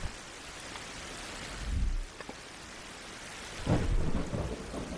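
Thunder rumbles twice through steady rain in a stormy survival video game, a low roll near the start and a louder, longer rumble toward the end, with constant rain hiss between.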